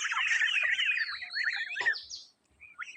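Domestic geese calling near a canal, a flock of loud, harsh, overlapping honks and cackles heard up close, dropping to a few scattered calls at the end.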